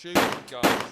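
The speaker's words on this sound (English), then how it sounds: "and I'm shooting guns." Two sharp gunshots fire in quick succession, loud and close, each with a short ringing tail.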